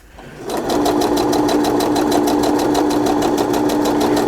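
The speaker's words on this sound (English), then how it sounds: "So I'm getting more into the sewing with the journals" A sewing machine stitches through paper journal pages. It starts up quickly and then runs close and loud with an even, rapid rhythm.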